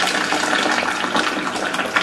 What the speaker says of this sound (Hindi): मैंने गरम पानी कर चुकी हूँ मैं केटल के अंदर, तो अब ये कि मैं इसको पानी डालती हूँ